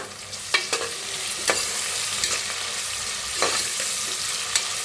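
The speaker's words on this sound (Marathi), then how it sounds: "कापून घेतलेला कांदा थोडस हिंग आता ह्याच्यात टाकूया कढीपत्ता आणि छान असं मिक्स करून घेऊया" Onion, asafoetida and curry leaves sizzle steadily in a hot pan for masala rice, with a spoon scraping and stirring through the crackle in irregular strokes, close and fairly loud.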